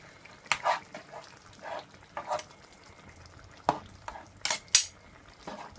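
Browning being stirred into Jamaican stew pork in a pot: scattered scrapes and clinks of a spoon against the pot, a few sharper knocks among quieter stirring, fairly close.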